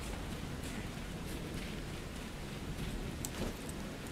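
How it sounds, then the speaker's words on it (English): Steady rain pattering in the video game Miscreated during a storm, a dense even wash of drops with a few brighter splashes. "This rain sucks ass!"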